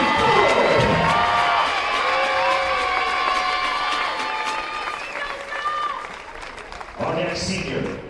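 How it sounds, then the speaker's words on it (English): A crowd at a West Texas A&M senior-night game cheers and applauds, with whoops and children shouting, mixed with an announcer's amplified voice; the roar stays loud and sustained, then dips before swelling again near the end. "Everybody, Buff Nation, please give a round of applause for number 17"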